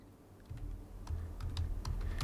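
Soft, scattered keystrokes on a computer keyboard while filling in a form field, faint individual clicks over a low background rumble.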